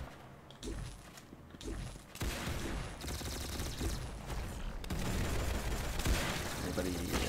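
Bursts of gunfire in the Roblox shooter Arsenal, rapid overlapping shots that build to a dense, loud barrage, with a voice talking at times.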